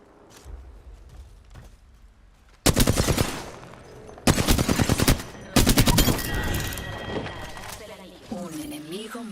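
Bursts of automatic gunfire in a video game as enemies shoot at the player, coming in three loud rapid rattling volleys separated by quieter stretches of game noise, with a faint voice now and then.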